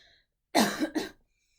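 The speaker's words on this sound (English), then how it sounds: "Got a cough." A single close cough in two quick bursts, breaking an otherwise quiet moment.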